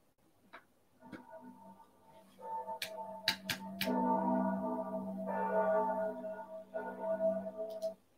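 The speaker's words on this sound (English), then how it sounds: "Cathedral bells." Cathedral bells alarm tone played from an MP3 file: overlapping sustained, ringing tones with sharp struck onsets build to a steady, fairly loud chime that continues for several seconds, with no talking.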